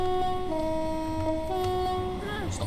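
A train horn sounds in a train simulator game on a West Cornwall local line, giving a couple of steady tonal blasts with a brief pitch drop at the end and talk underneath.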